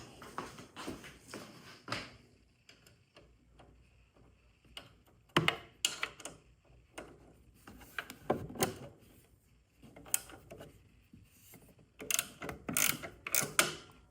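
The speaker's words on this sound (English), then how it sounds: "It's a 3/8 ratcheting wrench." A 3/8 ratcheting wrench clicks in short bursts while removing screws during a handlebar riser install on a 2024 Harley Road Glide, rapid close ratchet ticks separated by quiet pauses.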